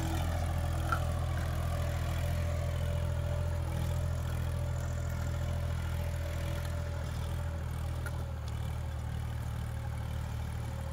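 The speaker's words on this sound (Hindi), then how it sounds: "तीस बत्तीस तीन तवियों में चल रहा है ट्रैक्टर।" A New Holland 3032 tractor pulls a three-disc plough, its engine giving a steady, loud, continuous drone with a low rumble and some clatter that holds evenly throughout, with no voices.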